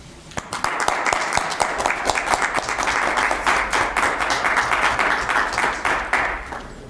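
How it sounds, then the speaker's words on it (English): Applause fills a county commission meeting chamber, a steady room-wide patter of many hands clapping for about seven seconds at moderate, even loudness, with no talking over it. "join me in a round of applause for Ryan and his team right now, please."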